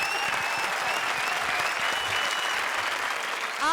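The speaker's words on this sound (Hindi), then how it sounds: "जोरदार तालियां चारू शर्मा के लिए" Loud, dense studio audience applause for a comedy show, sustained and close, with faint cheering and tonal sounds running through it.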